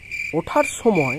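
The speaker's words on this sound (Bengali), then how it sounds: "চারিদিকে ঝিঝি পোকার ডাক।" Crickets chirp all around in a steady, high-pitched drone while a narrator's voice speaks over them.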